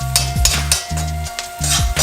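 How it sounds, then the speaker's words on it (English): Curry and onion frying in hot oil, with a steady sizzle and scraping stirring strokes repeating every half second or so, close and fairly loud, with no talk. "the curry and when the onion hit that oil, man, it give a wonderful,"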